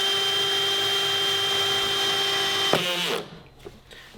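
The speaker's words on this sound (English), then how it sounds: "drill the 2-inch hole, and then pre-drill some holes for the bolts to go through. I'm using a 2-inch hole saw" A cordless drill spins a 2-inch hole saw during a ProMaster van conversion, giving a loud, steady high whine that cuts off abruptly near the end, followed by a brief quieter rattle.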